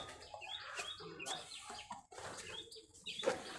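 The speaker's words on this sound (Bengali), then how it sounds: "আর হ্যান মানে মুরগি।" A chicken clucks in a quick run of short, sharp calls and squawks, close by and fairly loud, with no other sound around them.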